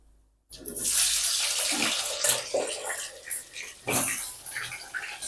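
Potatoes drop into hot oil in a pan while a lightly spiced country chicken dish cooks. A sudden loud sizzle bursts out and keeps hissing and bubbling close by, flaring again near the end.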